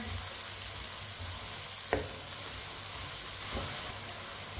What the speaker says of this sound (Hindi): 2 मिनट पकाने से टमाटर नरम हो जाते हैं, टमाटर का कच्चापन खत्म हो जाता है।